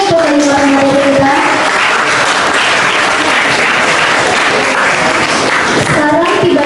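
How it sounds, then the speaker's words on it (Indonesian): Sustained audience applause at an Indonesian presentation on dengue fever prevention: dense, loud, steady clapping from a full room lasting several seconds, with a voice briefly audible at the start. "Mari kita berikan aplaus sekali lagi untuk kelima materi kita."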